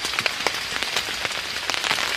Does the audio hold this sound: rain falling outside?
yes